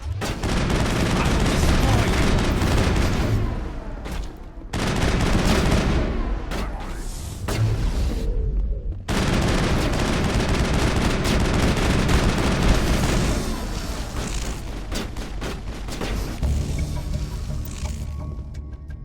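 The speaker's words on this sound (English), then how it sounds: "Why is Tally using a sniper rifle?" Sniper rifle fire and other weapons in the Mass Effect video game: dense, loud volleys of shots and booms crowd the whole stretch, with brief dips between bursts.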